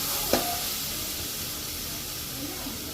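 Food sizzles steadily in a hot pan with a constant hiss, a brief clatter near the start, and faint voices in the background.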